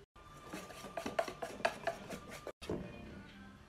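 Utensil stirring melted butter into a batter of egg yolks and sugar in a bowl, with close, repeated scraping and clinking strokes in an irregular rhythm, briefly pausing before the mixing resumes.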